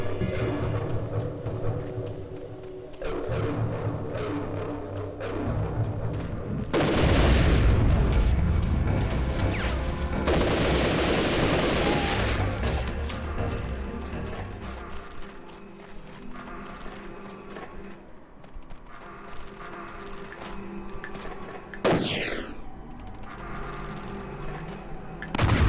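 Cranes are blown up with explosives in a video game. A couple of heavy, booming blasts burst out over a rumbling backdrop, mixed with sharp crashing bangs, loud and near.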